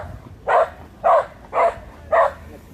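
A dog barks four times at a steady, even pace. The barks are loud and close, and nothing else is heard.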